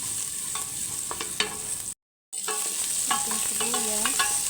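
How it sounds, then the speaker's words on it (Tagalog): Garlic sautéing in olive oil for pork sinigang, a steady close sizzle with occasional stirring, briefly cut to silence midway, with faint tonal sounds in the background. "Gisa na natin yung ating bawang"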